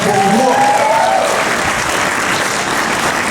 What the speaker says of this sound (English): Another round of applause, please, for PIPC.